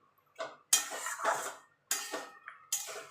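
Beaten curd stirred into a taro and potato curry in a pot over low heat, heard as a few separate bursts of a spoon scraping and clinking against the metal pot, close and clear, with short pauses between.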